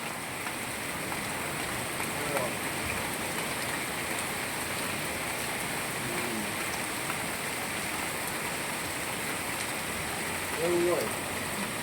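Monsoon rain pours steadily in Moti Gop village, a dense, even hiss of drops on surfaces that runs unbroken throughout, with a brief faint sound near the end.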